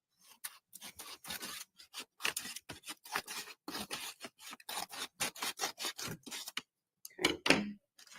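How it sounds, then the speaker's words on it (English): Scissors cut across the top of an evidence package in a courtroom, a long run of close, crisp snips and rasping slices through paper, steady and rhythmic, ending in a louder rustle of handling. "will the scissors work okay? Just be very careful when you cut the top of the package, just cut it across straight"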